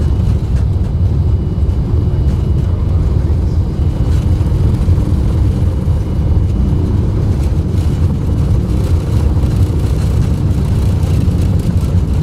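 The jet engines of a British Midland Fokker F28 in a flight simulator run at takeoff power, giving a loud, continuous low rumble and roar that holds steady throughout with no voices.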